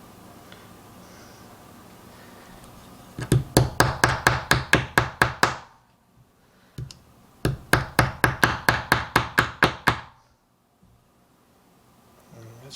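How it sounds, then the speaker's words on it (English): A hammer strikes a bearing on a KTM 65 dirt bike in two quick bursts of about ten sharp metallic blows each, separated by a short pause, loud and close. "The only reason I'm hammering on the bearing is because I know I'm changing it."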